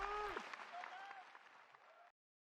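A wrestling arena crowd applauding and cheering loudly for a returning wrestler, a dense wash of clapping and raised voices that gradually thins before cutting off abruptly.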